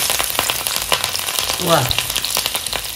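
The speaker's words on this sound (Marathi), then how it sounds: "आता ह्यामध्ये आई लसूण आणि कढीपत्ता घालणार आहे." Garlic and curry leaves frying in hot homemade groundnut oil in a kadhai, a steady close sizzle throughout with a brief spoken word over it.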